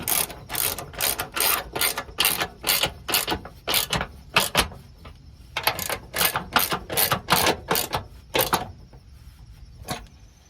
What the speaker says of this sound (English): Now you can tighten the bracket bolts.